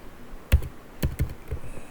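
A few quick, sharp keystrokes on a computer keyboard, close and clear, clustered into a short burst of tapping with brief pauses between presses.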